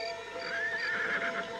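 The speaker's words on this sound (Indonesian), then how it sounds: "Aku mendengar suara rengki kuda." A horse whinnies in a long, wavering neigh over a steady background hum, fairly distant and alone, with no talking.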